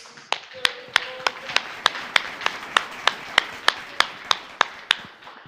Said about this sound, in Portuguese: Sua melhor salva de palmas ao Senhor Jesus.